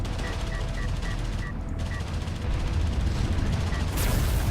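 Railgun fire and battle explosions in the Homeworld: Deserts of Kharak strategy game, a dense stream of rapid shots and booming blasts over a heavy rumbling bed of combat noise.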